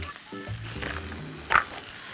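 Rice grains stir-fried in a pan in a cooking show kitchen, a soft steady sizzle with a brief louder scrape of stirring near the end, a voice murmuring faintly underneath.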